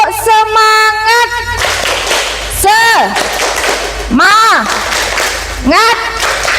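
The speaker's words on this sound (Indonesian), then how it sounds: "Ibu ingin dengar tepuk semangat dari kalian lagi." Children's rhythmic spirit clap in an Indonesian classroom, loud claps in a patterned beat with whoops and shouted chants over them, a teacher's voice leading at the start.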